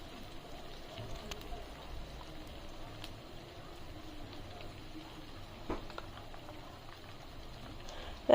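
Whole green chilies and chopped onion fry in a pan for chicken curry, a soft, continuous crackling sizzle with scattered pops at moderate distance.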